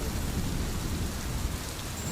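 Rain pours steadily in a thunderstorm, a dense close wash of drops with a low rumbling undertone throughout the short stretch, no voices.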